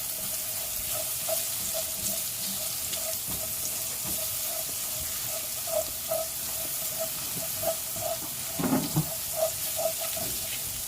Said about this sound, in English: So just saute this for just a few seconds so it's not raw.